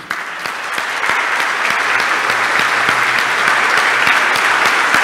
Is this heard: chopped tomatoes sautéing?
no